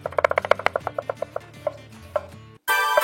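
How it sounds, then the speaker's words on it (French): A sharp knife slices an onion on a cutting board in a quick run of crisp, evenly spaced chops. The strokes slow and thin out toward the end, then a brief burst of broadband noise follows. "On vient émincer l'oignon."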